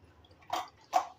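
Water poured from a mixer jar onto ground masala in a pot of Konkani-style sweet dal, two short soft splashes a fraction of a second apart, close and quiet with no talking.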